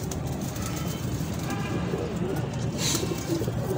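A star pigeon coos in a few soft, low calls amid steady background hubbub, with people talking nearby.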